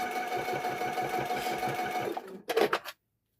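A sewing machine runs steadily for about two seconds as it stitches a seam on a quilted phone stand and cow quilt square, then stops, followed by a few short mechanical clunks before silence.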